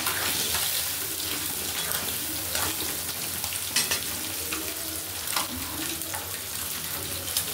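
Flat beans stir-fried in a pan with potatoes, a continuous loud sizzle with brief clinks and scrapes of stirring, heard up close with no talking.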